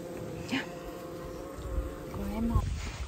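Honey bees buzz around beehives in an apiary during a hive inspection, a steady low droning with individual insects passing near, while people talk faintly in the background.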